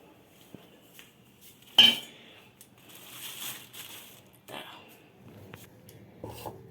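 Fish-washing basket and metal utensils handled in a home kitchen, with scattered clinks and rattles, one sharper clatter near the start and softer rubbing scrapes, close and moderately quiet.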